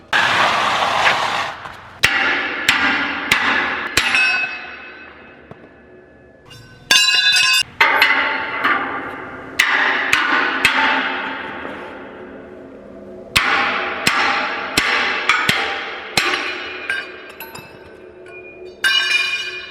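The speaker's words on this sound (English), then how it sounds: "compress that spring so that you can hammer them off" Hammer blows knocking spring clips off a compressed spring while setting up a new clip attachment piece for a sweep: sharp metallic clinks and thuds land in quick bursts of three or four, close and loud, with short pauses between groups.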